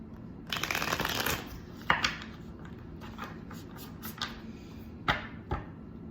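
A deck of Light Seer's tarot cards is shuffled up close, with a sustained riffling burst followed by sharper individual card flicks and taps, quiet and without talk.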